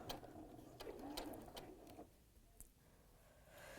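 A sewing machine runs at a fast, steady pace, its stitching a quick mechanical whir with a few sharp clicks along the way.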